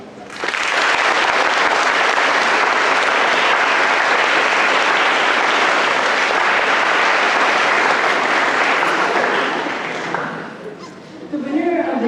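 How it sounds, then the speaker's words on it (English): A large audience at an academic conference keynote applauds loudly and steadily for about ten seconds, then the clapping tapers off and a few faint voices follow. "Please give a warm round of applause for Tal Shutkin."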